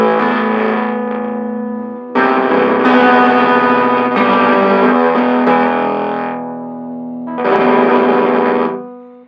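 Electric guitar played through an Electro Harmonix Germanium OD overdrive pedal at high gain, with loud sustained distorted chords that ring, fade and are struck again, sounding fuzzy and crackly.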